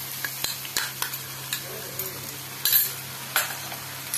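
Ginger garlic paste fries with browned onions in a pan, a quiet sizzle under irregular scraping strokes and clinks of a spatula, heard close with no talking.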